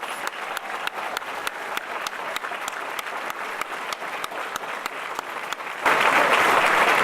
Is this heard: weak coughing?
no